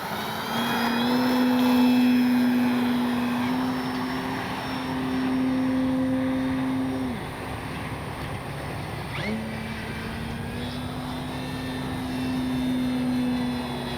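An FMS 1400mm Pitts V2 radio-controlled biplane takes off downwind and flies past, its electric motor giving a steady high whine that rises and falls in pitch with throttle and distance, with no talk.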